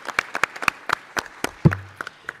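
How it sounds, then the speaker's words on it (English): Sparse, separate claps from a small audience at an Oregon Tourism Commission meeting, about a dozen sharp hits in an uneven rhythm, close and fairly loud, with a brief low sound near the end. "let's give them a big round of applause for all that they do"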